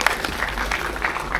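Audience applause at an event in Indonesia, a short burst of dense clapping from a crowd, fairly loud and close.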